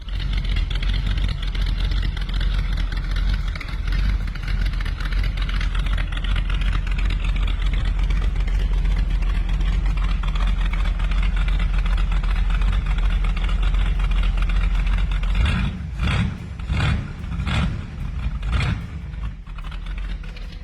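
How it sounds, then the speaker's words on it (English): A V8 car engine idles with a steady, deep rumble, close up, ending with a few sharp throttle blips. "and listen to this engine."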